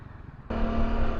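Heavy road traffic around a motorcycle: a faint low rumble gives way halfway through to a sudden, loud, steady engine drone with a humming tone, and no one speaks.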